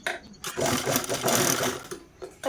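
A domestic sewing machine runs a short burst of stitching on a zip pouch, a close, loud whirr lasting under two seconds with quiet moments on either side.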